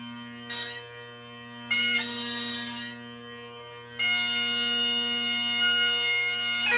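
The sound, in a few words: Highland bagpipes playing, drones and chanter melody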